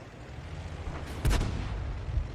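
Tank cannon fire in the World of Tanks video game on the Paris map, a single heavy booming shot over a low rumbling battle ambience, with a second dull thud trailing after.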